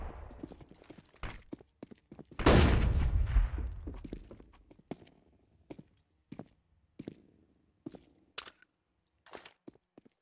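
Counter-Strike machine gun fire during a competitive esports match: a loud, rumbling sustained burst followed by scattered single sharp shots spaced out across an otherwise quiet stretch.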